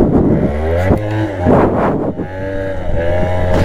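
A Piaggio Zip scooter engine revs hard during a wheelie, close and loud, its pitch climbing, dropping and surging again in uneven bursts.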